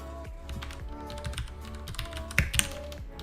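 Keys clatter in quick, uneven bursts on a computer keyboard as terminal commands are entered during an Arch Linux install. The taps are close and steady, with a couple of sharper strikes near the end, and no one speaks.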